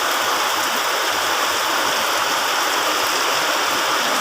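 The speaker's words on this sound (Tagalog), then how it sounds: "Okay, so umuulan siya." Heavy rain pours down in front of a shop, a loud, dense and continuous hiss of water that stays even throughout with no voices over it.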